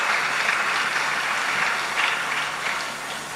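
A church congregation claps together in sustained, dense applause that fills the room, fading slightly toward the end, with no speech over it.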